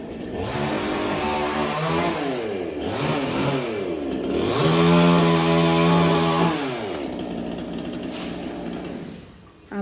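A chainsaw cuts down mango trees beside a wall, its engine revving up and down in repeated surges, loud and close throughout with no talking.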